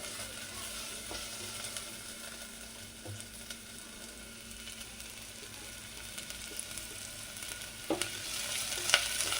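Onion and green chilies sizzle steadily in hot oil in a pan while a utensil stirs them, with occasional sharp scrapes and clinks against the pan near the end.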